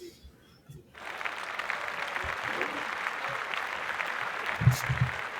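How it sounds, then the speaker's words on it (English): A crowd breaks into loud, sustained applause after a brief quiet start, with a few whoops rising near the end. "Round of applause."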